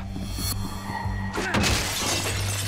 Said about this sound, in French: J'ai défoncé la fenêtre.